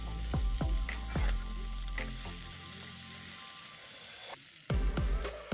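Eggs and green beans frying in a pan at a mountain campsite on a solo hike, with a steady close sizzle throughout and several sharp clinks of a utensil against the pan. The sizzle briefly dips near the end.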